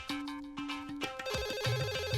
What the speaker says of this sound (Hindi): टेलीफोन की घंटी बज रही है सर